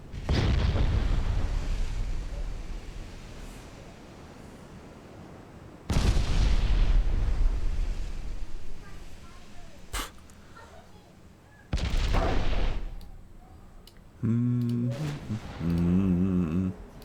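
An artillery volley strikes a battleship in a naval strategy game, heavy explosive booms coming in three loud bursts with rumbling tails between them, followed by short tonal game alert sounds.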